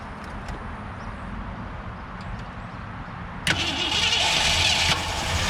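A 1967 Ford Galaxie 500 running on bad gas cranks and catches partway through, a sudden louder broadband roar rising over a low steady rumble, close by with no talking.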